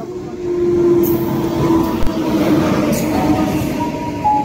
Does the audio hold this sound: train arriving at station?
yes